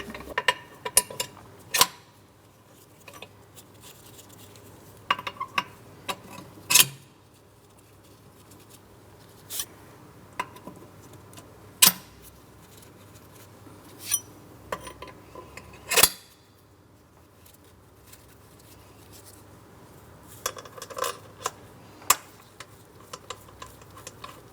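Metal mounting bolts being started by hand on a 2003-2007 Cadillac CTS 3.6L V6, giving sparse, sharp metallic clinks and taps spread irregularly over a quiet background, with no voices.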